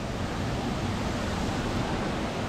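Steady light drizzle falling on a rainy morning after days of continuous rain, a soft, even broadband hiss that holds constant throughout with no distinct drops or other sounds.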